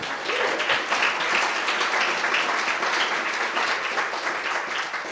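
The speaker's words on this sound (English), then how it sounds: "Give yourselves a round of applause for being here." A crowd at a welcome reception for a university event gives a steady round of applause, many hands clapping densely and evenly for about five seconds, loud and without speech.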